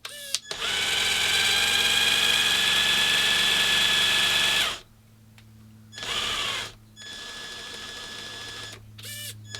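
A Traxxas TRX-4 RC crawler's electric motor whines steadily on throttle for about four seconds, then gives two shorter bursts after pauses, with a constant low hum underneath.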